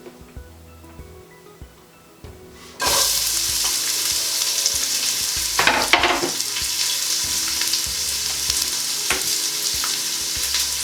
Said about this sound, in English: Now this is probably going to sizzle.